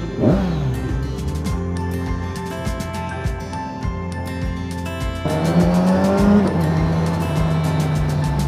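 A 2021 BS6 Kawasaki 1000SX motorcycle with a decat exhaust, the engine idling close by with a steady bassy rumble, then revving higher for several seconds with a rising, throatier tone.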